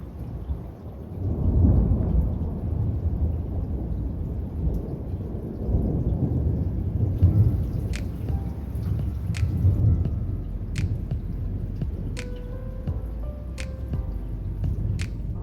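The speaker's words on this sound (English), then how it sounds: "there's a pretty big thunderstorm happening" A heavy thunderstorm with steady rain, heard from a balcony: deep rolling thunder rumbles over a constant wash of rainfall, with sharp drips and raindrop ticks becoming clearer later on.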